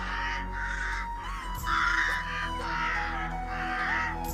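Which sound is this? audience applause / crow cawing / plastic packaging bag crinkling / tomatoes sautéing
crow cawing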